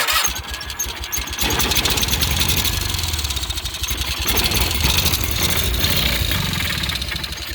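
A Cub Cadet 1812 lawn tractor engine runs steadily and loudly up close, a continuous rough rumble with a faint rattle.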